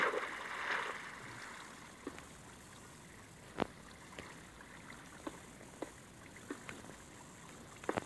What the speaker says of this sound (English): Why is this water still emptying?